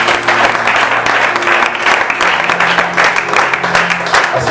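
A church congregation at a French-language service applauds God, dense steady clapping from a full room lasting several seconds, close and loud.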